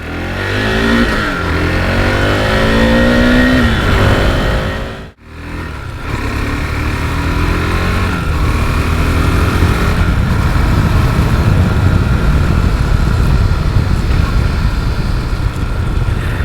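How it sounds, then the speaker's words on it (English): A 2023 KTM RC 390 motorcycle engine revs hard and climbs through gears, rising whines broken by a brief cutout, then a sustained buzzing drone with wind rush. "As you can hear, it definitely does sound like a small capacity bike."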